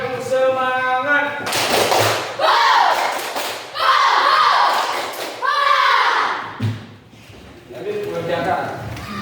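A group doing the rhythmic 'tepuk semangat' spirit clap, with loud bursts of clapping in a patterned sequence between stretches of chanting voices, close and energetic.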